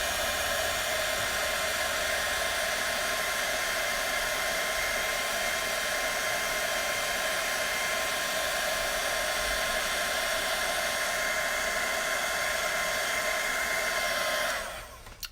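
A heat tool blows steadily and loudly to melt gold embossing powder, a continuous whooshing hiss like a hair dryer that holds for about fourteen seconds before cutting off at the end.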